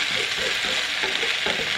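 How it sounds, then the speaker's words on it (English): Pad thai noodles with egg fry in a pan while being stirred, a steady close-up sizzle broken by soft rhythmic scraping and tossing strokes, with no one speaking. "you just want to keep stirring this around for maybe 30 more seconds"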